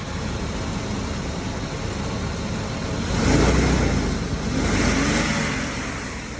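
A Jeep engine runs steadily and fairly loud with a smooth, even drone, swelling in two brief revs partway through and settling back, no voices over it.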